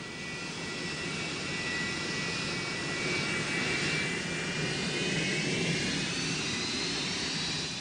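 A Northrop XRB-49 flying-wing reconnaissance aircraft in flight, its engines producing a sustained, loud, broad jet roar with a slowly shifting whine, alone without voices.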